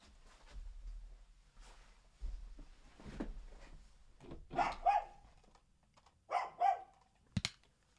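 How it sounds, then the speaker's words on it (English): A dog barks several times in short, sharp bursts indoors, with quieter tapping and room noise between the barks. "The amount of times my dog barks to leave my room"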